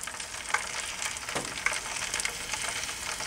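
Bacon sizzles on a dome-lidded grill as its fat renders and the strips crisp. A close, steady hiss crackles with scattered pops, and there is no talking.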